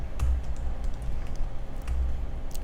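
Typing on a computer keyboard while entering a folder-creation command in Windows, a steady run of light key clicks with no talk, close and fairly quiet.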